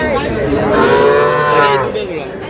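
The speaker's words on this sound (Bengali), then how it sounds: "ষাঁড় বাচ্চা।" Bull calves at a farm market give a loud, close moo that rises and falls over about two seconds, with no talk over it.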